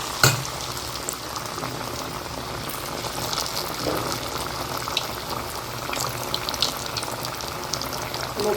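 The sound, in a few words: sweet paniyaram batter frying in hot oil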